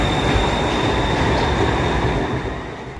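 Metro train in Thailand, a loud continuous rolling roar of the carriages with a steady high whine from the wheels, heard up close, fading slightly at the end, with no talking.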